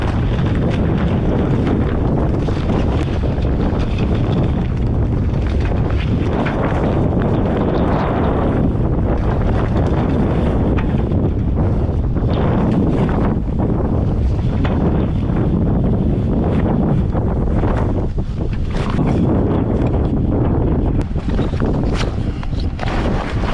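Strong wind buffets a sailboat heading up into the wind at sea, a loud continuous roar and rumble of gusts across the microphone, with faint water wash underneath and no speech.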